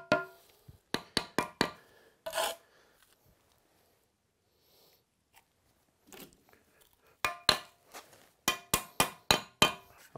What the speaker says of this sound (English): just placing that brick into position, gently tapping down, tapping it on the side